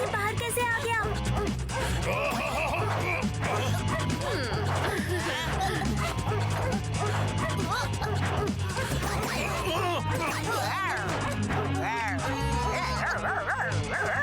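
A cartoon dog barks and yips in rapid excited bursts with whimpers, loud and close over busy music and crashing effects.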